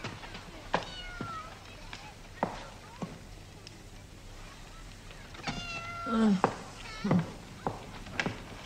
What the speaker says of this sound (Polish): Niech Felicja pokaże tego kota.